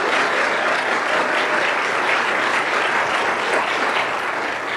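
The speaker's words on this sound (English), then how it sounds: "Maggie Yost, you can clap." An audience at a school board meeting claps loudly and continuously for a student athlete, a thick unbroken roar of hands close by with no voices on top.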